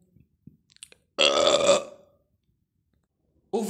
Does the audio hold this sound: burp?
yes